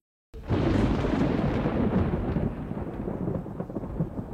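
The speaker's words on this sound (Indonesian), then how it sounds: "Ya Tuhan, hujan deras. Aku rasa akan ada badai." A heavy storm of thunder and pouring rain bursts in after a short silence, a loud continuous roar and rumble that stays full and steady throughout, with no voices.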